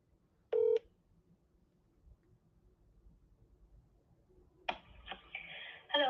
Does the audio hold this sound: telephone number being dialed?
yes